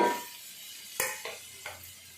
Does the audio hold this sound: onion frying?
yes